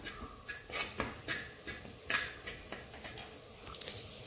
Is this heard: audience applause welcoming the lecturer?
no